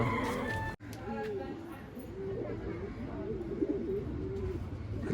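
Madrasi pigeons in a pigeon loft, with soft cooing and bird calls carrying on steadily through the whole stretch, mixed with quiet voices and background bustle close by.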